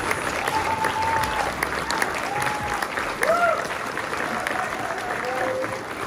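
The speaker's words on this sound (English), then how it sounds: "A round of applause for our 8th grade students." A crowd applauds eighth grade students steadily for several seconds, dense clapping filling the room with a few faint voices underneath.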